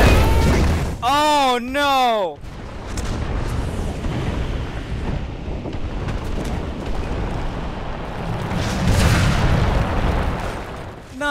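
Gunfire and explosions rumble through a War Thunder battle, heavy booms and continuous low roaring combat noise swelling toward the end, following a brief voiced exclamation at the start.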